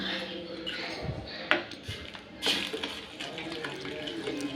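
Water is poured into a pot of drumstick-leaf (murungai keerai) spinach sambar as it is stirred, giving soft splashes, scattered clinks and stirring scrapes over a quiet kitchen background.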